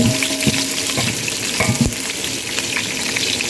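Chopped onions frying in oil give a dense, close crackling sizzle, steady and continuous with occasional sharper pops and stirring scrapes, no talk over it.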